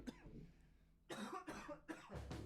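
A short run of close coughs, several quick harsh bursts in the second half following a softer breathy sound.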